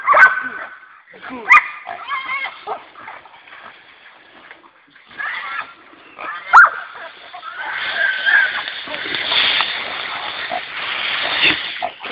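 A Serbian tricolour hound barks and yelps in repeated bursts outdoors, with excited, whiny cries building into a sustained noisy stretch; people's voices mix in at times.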